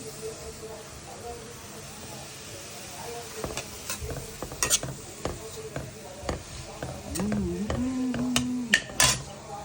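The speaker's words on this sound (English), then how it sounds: "Now gajar and ghee." Grated carrots cook in ghee in a pan where cashews were just fried, with a soft steady sizzle and intermittent scraping stirs that grow busier toward the end, alongside a faint voice and small kitchen clatter.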